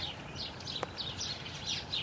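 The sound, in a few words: birds chirping around a field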